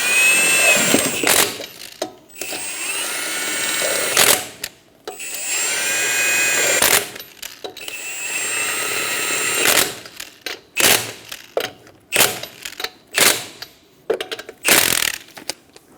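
Power tool running in repeated short bursts as wheel lug nuts are snugged down on a 1994-1997 Honda Accord 2.2L, with longer whirring runs at first, then quick pulses, loud and close.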